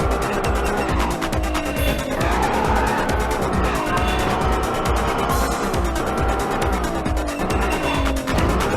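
Race cars in the video game Midnight Club 2 roar through a Los Angeles circuit race, engines revving and shifting pitch with tire squeals and skids, loud and continuous with no talking.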